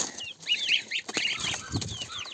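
High, rapid peeping from a group of chicks and goslings, close by and overlapping, with a few soft rustles in between.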